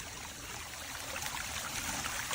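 Water jets from a BeatBot Sora 70 robotic pool cleaner stream and gurgle in a pool, a steady hissing wash of moving water with no pauses.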